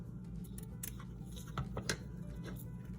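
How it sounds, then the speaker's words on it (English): Scissors trim a strip of lace on a paper-craft journaling card, with a few soft, close snips and crisp cuts over a steady low background hum. "So we're gonna just trim it there."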